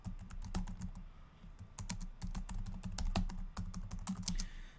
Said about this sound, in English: So you'll have to type your user ID and the password to log into.